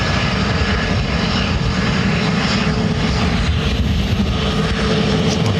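Airliner arriving in high wind at Dublin Airport, a loud, continuous engine roar mixed with heavy wind buffeting and no pauses.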